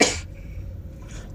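A single sharp human sneeze bursts out at the start, close and loud, then fades into a quiet low room hum with a faint trailing breath or sniff near the end.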